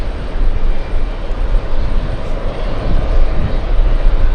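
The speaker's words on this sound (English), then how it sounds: "I wonder if it's taxiing under its own power" A fixed-wing airliner taxis at JFK airport, its jet engines giving off a loud, steady roar and rumble that holds throughout.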